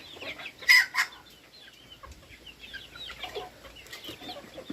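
Native chickens clucking inside a coop in the countryside, with one loud burst of calls near the start, then steady scattered clucks and chirps from several birds at close range, with no talking.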